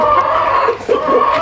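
Chickens on a small poultry farm cluck loudly and continuously, the calls close by. One bird's voice dips briefly partway through before the clucking picks up again, with no one speaking.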